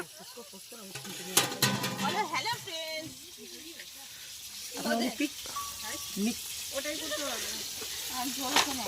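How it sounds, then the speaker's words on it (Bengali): Fish sizzling and crackling in hot oil at a picnic, a steady frying hiss running underneath people talking nearby. "বৌদি মাছ ভাজছিল"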